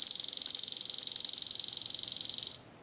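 A Ferrari telephone base unit's piezo buzzer rings with a loud, shrill, rapidly warbling tone that holds steadily for about two and a half seconds, then cuts off into brief silence.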